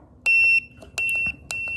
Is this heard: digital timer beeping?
yes